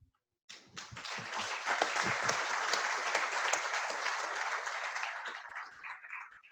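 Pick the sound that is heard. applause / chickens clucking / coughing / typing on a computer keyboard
applause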